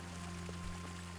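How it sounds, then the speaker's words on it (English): Continuous running creek water near a bathhouse in the medieval game Kingdom Come: Deliverance, a steady close pouring wash heard alone without talk. "Beautiful little creek."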